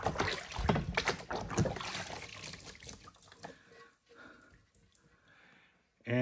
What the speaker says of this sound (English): I'm going to go ahead and dunk this in our bath one more time